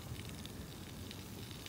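Steady crackling and hissing of wet wood burning in a fire, a soft continuous sizzle with faint pops, fairly quiet and unbroken.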